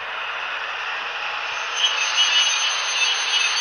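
A TT scale model sound locomotive plays its built-in engine sound, a steady droning hum that swells slightly louder partway through, close by with no talk.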